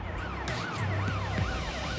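Police car siren wailing in rapid rising and falling sweeps, close and loud over the rumble of a moving vehicle on the road, with no speech.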